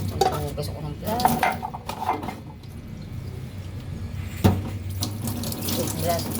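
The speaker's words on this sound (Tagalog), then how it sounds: "Hugas ako ng plato." Tap water runs into a sink at home while dishes are washed by hand, with plates and cutlery clinking close by over the steady flow.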